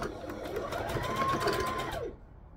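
Sewing machine stitching a wrap skirt, running in a fast steady whir for about two seconds before stopping abruptly, close and fairly loud, with no talk.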